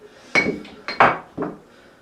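Several sharp, close glass clinks and knocks as a roughly 20-year-old glass bottle is handled, sounding in about four separate bursts with short pauses between them and no talking.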